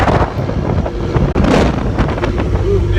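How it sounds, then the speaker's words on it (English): Strong wind buffets the microphone on an open ferry deck heading to the Bronx, a loud continuous roar with gusts, mixed with the rush of water and engine noise, while people talk faintly underneath. "It's getting windy."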